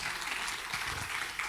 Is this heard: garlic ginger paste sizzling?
no